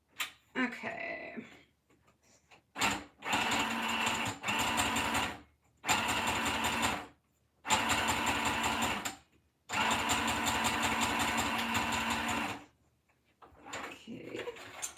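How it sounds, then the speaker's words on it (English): A sewing machine stitching small pockets runs in several loud, steady bursts of rapid mechanical whirring, each a second or two long, separated by short pauses, with quiet handling sounds at the start and end. "I'm gonna go ahead and stitch these little pockets on. So just a heads up on that for noise level"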